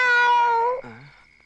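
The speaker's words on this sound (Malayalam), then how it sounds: "അത് പൂച്ചയല്ല, മരപ്പട്ടിയാണ്" A civet cat gives a single drawn-out, wailing cat-like cry, loud and close, that drops into a lower trailing moan before fading out.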